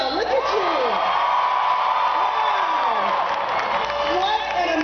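Loud crowd cheering and whooping at a Hillary Clinton election eve rally in Philadelphia, a dense, sustained roar of many voices with shouts rising above it throughout.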